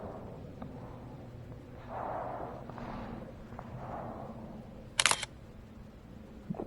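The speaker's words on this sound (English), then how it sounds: "might as well take a picture real quick" A single sharp camera shutter click snaps once for a selfie inside a flooded nuclear plant, standing out briefly and close over a low rumbling, echoing room hum.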